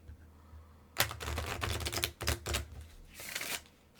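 Tarot cards shuffled by hand in a quick, crisp run of riffling and snapping, close and fairly loud, starting after a second of quiet and continuing to the end with no talk.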